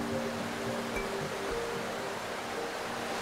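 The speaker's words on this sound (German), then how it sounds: "Bei dieser Quelle kommt das Wasser an verschiedenen Orten direkt aus dem Boden und ist nach wenigen Metern ein Bach." Spring water rises straight from the ground in several spots and becomes a stream within a few metres, in woodland along a pilgrimage route. It makes a steady, even, broad rush that carries on without a break and without any voices.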